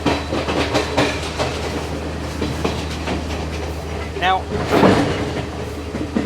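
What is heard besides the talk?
train rolling, Colombo to Kandy railway in Sri Lanka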